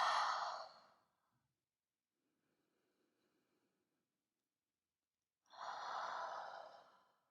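Two slow, audible exhales during a yoga wide-legged forward fold, each a soft breathy sigh about a second long, separated by a long quiet pause, close and gentle.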